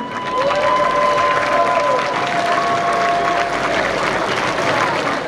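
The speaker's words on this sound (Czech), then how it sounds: "taky prosím potlesk pro ní" Sustained applause from a student dormitory crowd at a prize handover, loud and dense throughout, with faint tonal background music running beneath the clapping.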